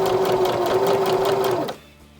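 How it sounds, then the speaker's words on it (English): A sewing machine runs steadily as it stitches a piece of fabric, giving a close, loud, even mechanical whir that stops abruptly near the end and leaves faint room quiet. "I am gonna sew on this piece since I have it in place"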